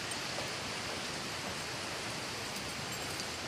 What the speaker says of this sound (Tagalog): Malakas na po yung agos ng tubig.